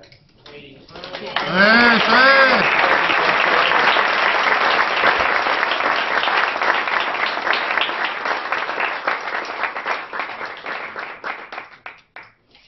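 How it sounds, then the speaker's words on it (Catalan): Loud, sustained clapping from a small group breaks out during a physiotherapy session for a spinal cord injury patient shifting weight, following a brief sung tone, then gradually thins into scattered claps before stopping. "Quan ell fa el canvi de pes, s'ha d'aplaudir"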